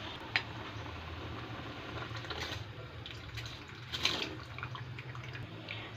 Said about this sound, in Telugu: ఇలా ఎసరు మరుగుతున్నప్పుడు మనం నానబెట్టుకున్న బాస్మతి రైస్ ఉంది కదా, నీళ్ళు లేకుండా వాష్ చేసి ఇందులోకి వేసేసుకోవాలి.